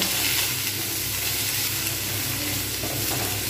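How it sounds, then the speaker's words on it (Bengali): Potatoes fry steadily in hot oil in a home kitchen, giving a continuous, even sizzle up close with a dense crackling hiss that holds at a steady level throughout, with no talking. "যতক্ষণ পর্যন্ত কিছুটা পরিমাণে লাল না হয় ততক্ষণ পর্যন্ত কিন্তু আমি এগুলো সুন্দরভাবে ভাজতে থাকবো, লাল হওয়া পর্যন্ত"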